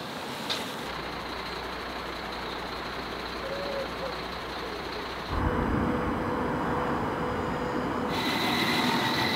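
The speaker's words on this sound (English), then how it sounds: "Train's here." A passenger train pulls into a station on an Irish rail line near Tullamore, producing a steady, loud mechanical rumble that deepens and grows heavier partway through, with no talking.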